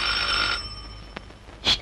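A telephone rings in a Turkish comedy film scene, with a steady, bright bell-like tone for about half a second, a brief click, then a second short ring burst near the end, with no talk.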